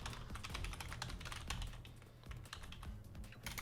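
Continuous typing on a computer keyboard while C# code is written, a dense run of quick key clicks with uneven rhythm, close up and steady throughout, no voices.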